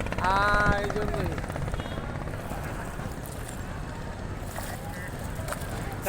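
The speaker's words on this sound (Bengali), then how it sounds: "ওই যে নতুন একটা লঞ্চ চলে যাচ্ছে" A river launch's engine drones steadily as it passes on the Buriganga river in Dhaka, with wind and water noise over it.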